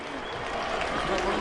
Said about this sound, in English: let's give them a round of applause for leaving their all in the cage